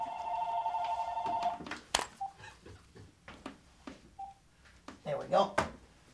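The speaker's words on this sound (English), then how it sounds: "the phone's gonna fucking ring while we're talking here" A telephone rings in a short electronic trill near the start, then gives way to clicks, handling noises and a voice talking.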